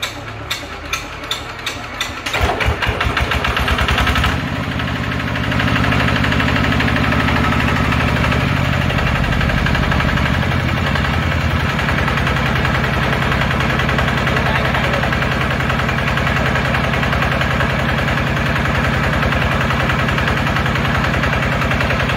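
Kubota RT140 diesel engine on a Korean-made unit, first with a few sharp clattering knocks, then running loud and close with a steady rough throbbing drone that holds throughout, no talk.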